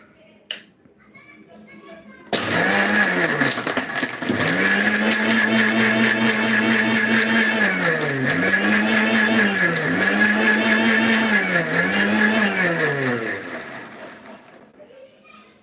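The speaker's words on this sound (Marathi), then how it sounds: "मिक्सरला फिरवून घ्यायचं." An electric mixer grinder whirs steadily while blending a muskmelon shake, its motor pitch dipping and recovering several times as the jar contents churn, loud and close, running alone for about eleven seconds before winding down.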